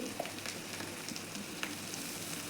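Mashed potatoes frying in a spiced tempering with turmeric, a soft continuous sizzle with a few faint stirring taps, quiet and close, and no voices.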